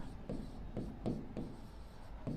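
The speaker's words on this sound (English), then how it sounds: "Let me write that question." Pen or marker writing out a question by hand during an engineering interview lesson, a series of short scratchy strokes at irregular intervals, close and quiet, with no talking.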